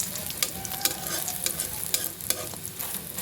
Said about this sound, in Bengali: পেঁয়াজ দিয়ে ডিম ভাজি করছি।